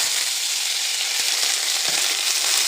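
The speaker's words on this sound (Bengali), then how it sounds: "এবার আমি পেঁয়াজটা ভেজে নেব" Chopped onion fries in oil in a wok, tempered with cinnamon, dried chilli and cardamom, for chicken kosha. A dense, even sizzle fills the clip, broken by a couple of faint clinks of a utensil.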